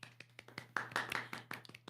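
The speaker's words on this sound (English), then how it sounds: "So we want to give ourselves a round of applause for that." A few people clap briefly at a small online gathering, a quiet scattering of distinct, separate claps with a faint hum beneath.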